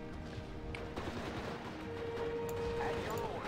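Mortar fire in the WWII strategy game Steel Division Normandy 44, a dense, continuous battle din of booming shots and gunfire rumbling throughout, with sharper blasts breaking through.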